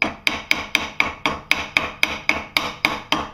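A hammer repeatedly pings a freshly welded black pipe warhammer head, about a dozen sharp metallic strikes in a steady even rhythm, each ringing briefly before the next.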